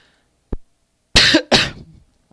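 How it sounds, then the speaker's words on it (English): A single cough lands close on a microphone during a computer programming tutorial, a short tick followed by two loud harsh bursts, alone without speech. "I'm sorry, I just coughed right into the mic."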